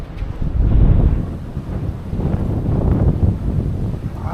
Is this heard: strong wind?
yes